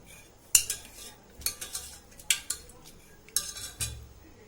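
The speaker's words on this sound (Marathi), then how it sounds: "असं चमच्याने किंवा रवीने असं चांगलं थोडं गोटून घ्यायचं आहे" Spoon pressing and scraping through cooked dal and eggplant in a pot, a handful of sharp metallic clinks and scrapes spaced irregularly, close and fairly quiet, with no talking.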